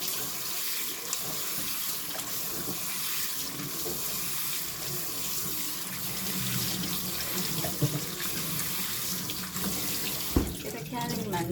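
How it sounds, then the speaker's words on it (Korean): Glass noodles rinsed under a cold running kitchen tap, a steady rushing stream of water into a sink with occasional splashes and clatters, quiet and continuous. "당면을 이제 시원한 물에 헹구고 있습니다."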